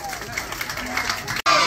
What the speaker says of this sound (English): So a round of applause to you all.